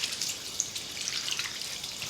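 A touchless faucet runs water into a sink, a soft, steady splashing hiss with no voices.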